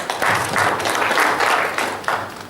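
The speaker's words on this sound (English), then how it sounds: "Let's give them a round of applause." A workshop audience claps in a short burst, with the sound swelling and fading in uneven waves over a couple of seconds.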